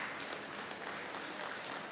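An audience at a Rotary district governor's installation ceremony claps in a steady, dense patter, moderately loud and even, without voices on top.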